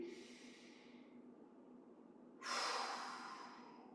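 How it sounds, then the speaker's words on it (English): Slow, soft breathing during Yi Jin Jing qigong practice: a quiet, gentle exhale, a pause, then a louder, longer airy breath that trails off, close by and with nothing else heard. "Top wrist can rest on the top of your head, breathing naturally"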